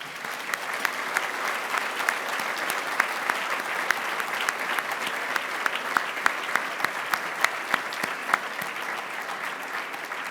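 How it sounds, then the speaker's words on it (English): An awards dinner audience applauds continuously, a dense, even patter of many hands that holds steady at moderate volume without pause or cheering. "Let's please acknowledge them with our applause."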